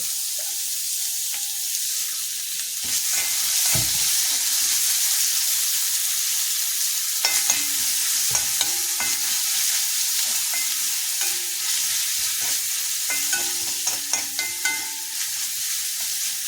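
Small onions (shallots) sizzle in a pan with oil while being stirred, a loud continuous hiss over sixteen seconds with repeated spatula scrapes and clinks against the pan.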